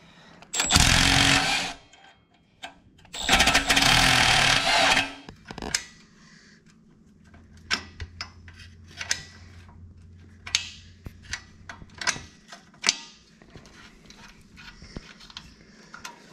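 Hand and power tools take the bolts out of a classic go-kart's engine. Two loud bursts of rattling tool noise come close by, followed by scattered clicks, clinks and metallic taps.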